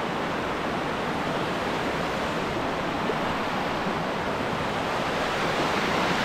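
Rushing water of Gabur Gabur Falls in Peñablanca, Cagayan, a loud, dense, continuous roar heard close up with no voices over it.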